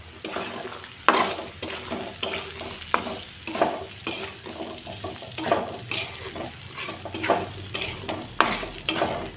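Peas with garlic and coconut fry in hot oil, a continuous sizzle broken by regular stirring strokes and scrapes of a spoon against the pan.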